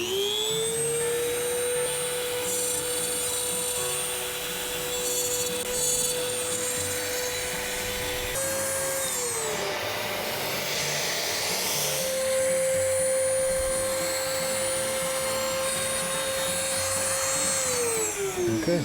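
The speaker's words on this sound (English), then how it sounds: "we just want to take light cuts to make sure that everything is as perfect as we can get it" A router cuts a rosette channel around a guitar soundhole in soft wood, its steady high-pitched whine running throughout with a brief dip in pitch midway before resuming, loud and close with no talking.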